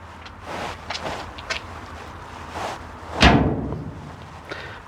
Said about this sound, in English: That was a real loud thunk as the magnet hit the door